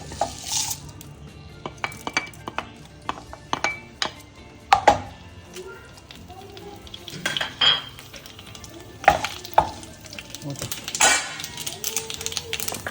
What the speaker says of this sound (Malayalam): അതിലേക്ക് കടുകും മുളകും ഇടുക.